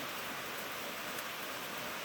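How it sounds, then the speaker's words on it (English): Heavy rain falls steadily outside, a dense, even hiss of drops that stays constant and fairly close throughout with no voices. "it's raining like heck"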